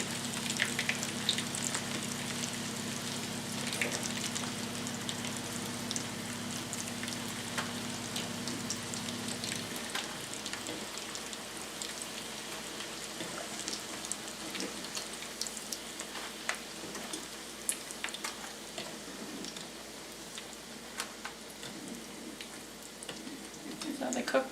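Cauliflower pieces frying in hot oil, a dense crackling sizzle that runs steadily throughout with scattered sharper pops, close by, with no talking.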